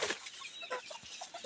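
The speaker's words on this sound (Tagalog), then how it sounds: "Palawan native chicken" A Palawan native chicken on a farm clucks in short, repeated bursts, close and fairly loud, with a few brief squawky notes mixed in.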